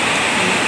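Heavy rain pours down steadily around a hostel as floodwater rises, forming a dense, even wash of noise. The sound is close and loud and holds constant for under a second, with no voices.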